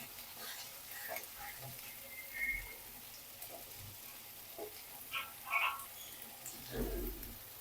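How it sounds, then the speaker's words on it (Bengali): Onion greens and cauliflower frying in a pan, heard as a faint, steady sizzle with occasional soft scrapes and stirring knocks. "পেঁয়াজ পাতা এবং ফুলকপির ভাজি রান্না করতেছি"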